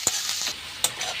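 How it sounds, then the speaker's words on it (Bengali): Onions sizzling in a pan while being stirred for a lote fish jhuri, a continuous frying hiss broken by two sharp spatula knocks. "এইভাবে আমি পেঁয়াজটাকে একটু ভালো করে ভেজে নেব।"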